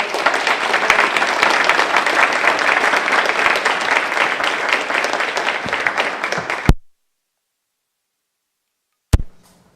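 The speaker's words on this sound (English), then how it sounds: "let us give him a rounding applause" An audience at a yoga talk applauds a speaker with steady, dense clapping for about seven seconds, then it cuts to silence, broken later by one short knock.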